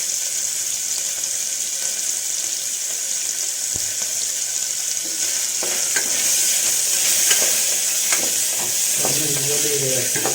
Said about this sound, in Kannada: ಪನ್ನೀರ್ ಹಾಕ್ಕೊಂಡು ಸ್ವಲ್ಪ ಫ್ರೈ ಮಾಡ್ಕೊಂಡು ಆಮೇಲೆ ನೋಡೋಣ.